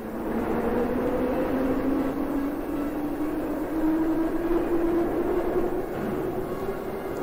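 A subway train in the Kyiv metro, 1960, rumbles along steadily with a droning engine tone and rattling underneath, loud and continuous throughout, no voices heard.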